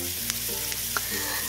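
Fried shallots sizzle in hot oil as they are stirred in a pan for a bean sprout and tofu stir-fry, a brief steady crackle with a couple of soft utensil scrapes and no speech.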